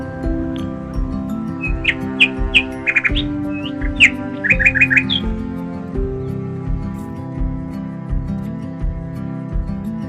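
Birds in a forest near Gangulpara reservoir chirp and tweet in quick, bright bursts over a sustained droning background, some calls in rapid clusters, fairly close and clear.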